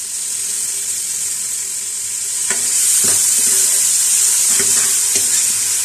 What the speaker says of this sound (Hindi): जैसे ही इसमें ऑयल गर्म होता है तो जो चॉप प्याज हमारे पास है, ये प्याज इसमें डाल देंगे